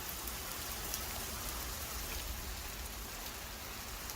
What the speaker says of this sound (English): You can see the rain particles coming off